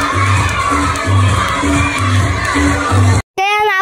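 A crowd cheers, whoops and shouts at a Filipino dance performance where men and women dance together; the noise is loud and continuous, with a steady rhythmic music beat underneath, and it cuts off abruptly near the end.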